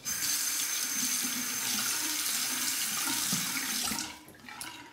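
Cold water runs steadily from a tap into a sink for a rinse during a straight razor shave, a constant hiss that cuts off near the end, followed by faint handling sounds.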